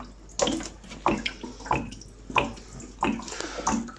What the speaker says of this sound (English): that's all the filthy water that would be coming out uncontrollably